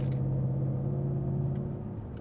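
A supercharged 2020 Ford Mustang GT 5.0 rumbles steadily with a deep, even idle, loud and close, with no talking over it.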